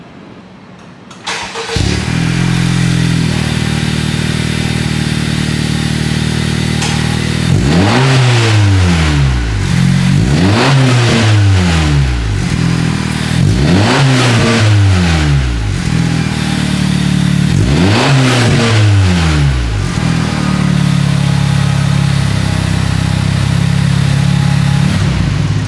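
A Honda car fitted with a new Takeda exhaust idles loudly, then revs up sharply several times in a row, each rise and fall of the engine note clear and close, before settling back to a steady idle.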